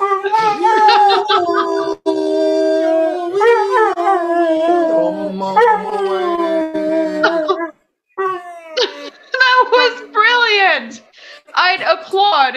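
A Catahoula Leopard Dog howls along as a person sings, its long wavering wails loud and close, rising and falling alongside the human voice, with a brief pause before a second run of higher, yelping howls.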